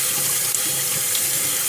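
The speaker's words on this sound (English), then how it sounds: "When they come out the can, I rinse them." Tap water runs steadily as canned banana blossoms are rinsed under the faucet, a loud, continuous close splashing rush with no voices.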